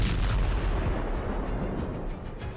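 Bunker-buster bombs from B-2 bombers bursting over Tehran during the Iran–Israel war, a dense continuous rumble of heavy blasts and crackling booms, loud and sustained with no clear gaps.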